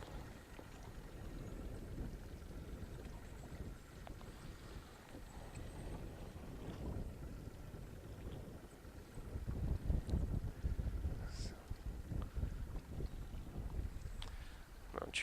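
Low rumble of a boat idling and drifting on open water during beluga whale watching, with steady wind noise across the microphone and a slightly louder stretch of engine and water noise later on.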